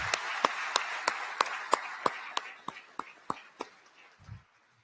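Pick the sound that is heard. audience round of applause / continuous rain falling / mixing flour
audience round of applause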